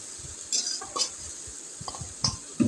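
Hilsa fish pieces being stirred into a mustard spice paste in a pan: soft, irregular scrapes and light clinks of a spatula against metal, spaced out and fairly quiet over a low background hiss.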